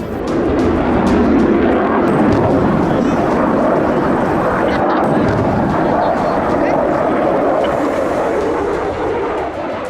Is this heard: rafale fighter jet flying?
yes